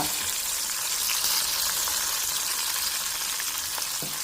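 Dried red chillies and asafoetida fry in hot oil with a loud, continuous sizzle and hiss. The sound stays even and close for a few seconds, and one faint knock comes near the end.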